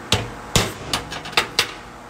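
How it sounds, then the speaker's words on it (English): A hammer striking a cold chisel to notch a rusty door on an old Dodge Power Wagon truck, five loud, sharp metallic hits spaced about half a second apart, close and alone. "So I got my cold chisel, hammer, and I'm just putting a little 45 degree notch"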